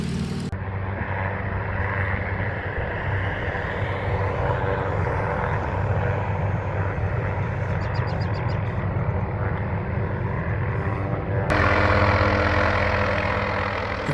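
A propeller airplane passing low overhead, a loud sustained engine drone mixed with gusting wind rush that swells and then shifts abruptly near the end, heard close with no talk.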